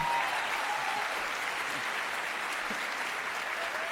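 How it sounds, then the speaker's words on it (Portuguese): A church congregation applauds during a sermon, a steady, even wash of many hands clapping at a moderate distance, unbroken for the whole stretch. "Quero ver você aplaudir essa"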